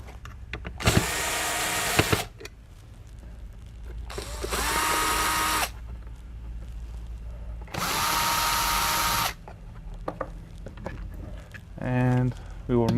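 A power tool whirs loudly in three sustained bursts as it backs screws out of the lid of a MidNite Solar Classic charge controller, with speech between the runs.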